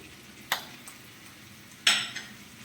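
Onion, tomato and shallots frying in a pan for a squid roast, two distinct metallic spatula clatters standing out over a soft, steady low sizzle.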